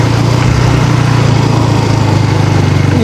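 KTM Duke 200 motorcycle engine during a test ride, a loud, close, steady buzzing thrum with a fast regular pulse and no voices.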